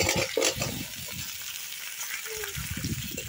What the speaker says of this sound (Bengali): আলু ও বেগুনটাকে একটু ভালো করে ভেজে নেব।